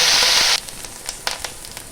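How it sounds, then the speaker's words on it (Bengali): Onion paste dropped into hot oil for an egg damdam pomi curry: a loud burst of sizzling for half a second, then quieter crackles and a few soft pops. "তেল গরম হয়ে গেছে, দিয়ে দেব আমি একটা মতো পেঁয়াজ বাটা।"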